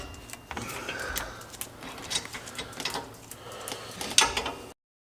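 A wrench working a lower control arm nut loose on a Nissan Xterra, quick faint metallic clicking and ratcheting taps in short clusters, close and quiet.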